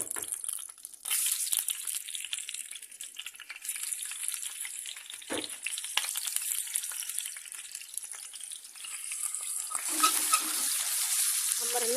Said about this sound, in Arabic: حبايبي هنحمر اللحمة